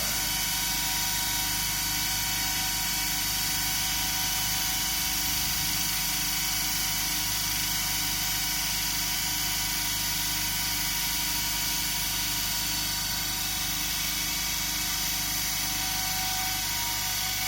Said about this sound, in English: So now I will vary your generator field rheostat.